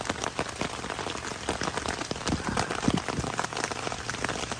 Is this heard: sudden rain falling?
yes